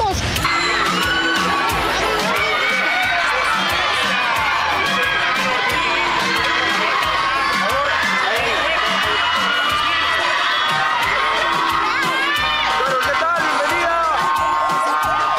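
Excited fans scream and cheer continuously outside a hotel as a singer leaves for a stadium sound check, a dense, shrill crowd roar lasting throughout at a moderate distance.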